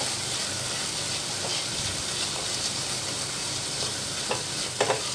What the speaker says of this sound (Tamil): அதையும் நல்லா மிக்ஸ் பண்ணிக்கலாம்